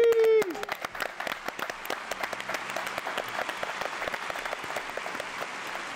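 A TV studio audience applauds a band with steady, dense clapping that runs the whole way, after a brief sustained tone at the start.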